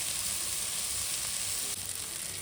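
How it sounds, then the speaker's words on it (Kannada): Steady, dense sizzle of frying in a pan while cooking egg biryani, close and even throughout with no voices. "ಚೆನ್ನಾಗಿ ಫ್ರೈ ಆಗಬೇಕು."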